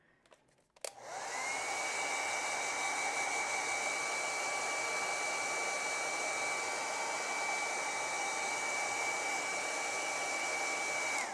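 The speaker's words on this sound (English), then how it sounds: "Let's go ahead and dry this. Oh, there's my hair dryer." A hair dryer drying acrylic paint starts with a click and then runs at a steady, loud whine with a constant airy roar, continuing without pause.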